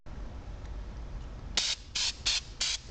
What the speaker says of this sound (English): spray it out with intake cleaner.